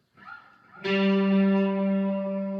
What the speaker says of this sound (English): Let's add a reverb. I have a hot springs.